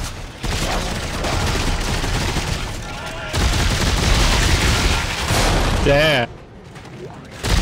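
Rifle gunfire in Dead Space 3: two long, loud bursts of rapid shots with a brief break between them, then a short mechanical warble as the firing stops. A man mutters briefly.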